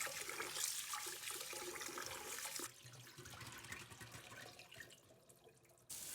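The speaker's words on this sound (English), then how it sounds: "Let's start by washing the rice. We need to wash it 3 times." Rice being washed in water in a kitchen, with running and sloshing water from a tap filling and splashing in a bowl or sink, moderately close, then cutting off near the end.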